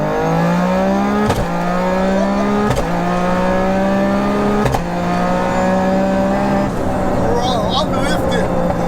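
A tuned 800 bhp three-cylinder Toyota GR Yaris with a sequential gearbox and nitrous accelerating hard, engine note climbing loudly through each gear with abrupt shift breaks, heard close from inside the car.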